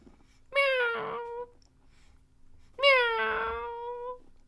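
A person's voice imitates a cat with two drawn-out meows about two seconds apart, each rising then sliding down, close and moderately loud in a quiet room.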